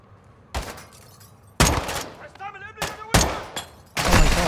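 Repeated bursts of gunfire from Call of Duty Modern Warfare II, about five loud broadband volleys separated by short gaps, with faint voices and game sounds between them.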